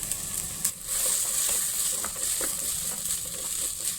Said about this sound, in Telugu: ఉల్లిపాయలు కూడా కొంచెం వేగాలి.